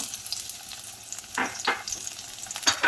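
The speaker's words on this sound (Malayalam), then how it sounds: "മൂന്ന് കൊച്ചുള്ളി അരിഞ്ഞെടുത്ത് വെച്ചിട്ടുള്ളതാണ് അത് നമുക്കിട്ട് കൊടുക്കാം" Three chopped shallots frying in a pan for chicken vegetable soup, a soft steady sizzle with a few louder stirring scrapes near the end, close and without speech.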